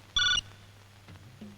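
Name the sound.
telephone ringing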